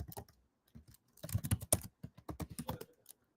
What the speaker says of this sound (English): I keep typing ls and I press enter